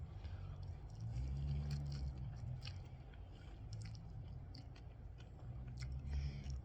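Chewing spicy Jongga kimchi instant ramen with pickled hot peppers, close-up wet mastication and soft squishy bites with a low hum underneath and no talking.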